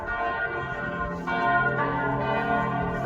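Large bells of an old church in Dresden ring loudly and continuously, overlapping tones clanging and sustaining with a rich, resonant hum.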